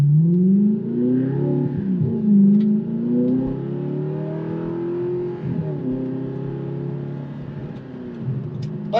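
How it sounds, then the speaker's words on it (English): A deep Audi R8 V8 engine revs up and down in long rising sweeps, loud and close, its throaty rumble rising and falling over several seconds. "it's got that just V8, but just sounds phenomenal."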